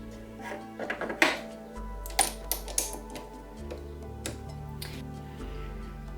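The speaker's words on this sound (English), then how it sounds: "I need to load my deep cut blade" A Cricut cutting machine loading a deep cut blade for leather work, with a quick run of small clicks and taps followed by steady mechanical motor hums that shift pitch in stages, close and fairly quiet.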